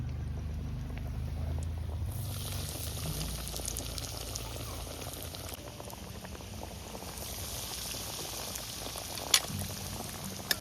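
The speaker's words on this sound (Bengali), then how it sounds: "চপ ভাজার জন্য তেল দিয়ে দিচ্ছি।" Shrimp chops fry in hot oil with a continuous, even sizzle and bubbling that carries on throughout, close and moderately loud, with a few small pops near the end.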